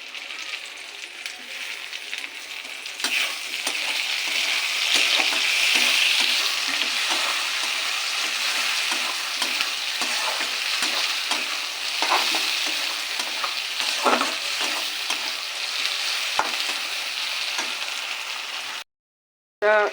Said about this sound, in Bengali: পেঁয়াজটা লাল লাল করে ভাজবো। এবার টমেটো কুচিগুলো দিয়ে দেবো।